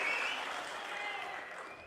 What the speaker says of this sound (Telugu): ఉందంటే గట్టిగా చప్పట్లు కూడా చెప్పండి